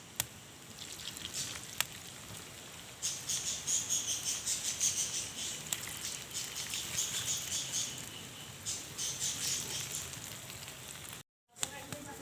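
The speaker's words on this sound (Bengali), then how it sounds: "এখন আমি এটাকে চ্যাপটা চ্যাপটা করে তেলের ভিতর দিয়ে দেব। এটা মিডিয়াম টু লো আঁচে ভাজতে হবে।" Potato and egg pakora patties frying in hot oil over medium-low heat, a steady close crackling sizzle with a dense hiss that swells and eases throughout, briefly cutting out near the end.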